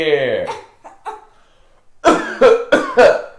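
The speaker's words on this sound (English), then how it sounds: "He wants me to cough." Several short, sharp coughs in quick succession, close and fairly loud, following a stretch of soft vocal sounds.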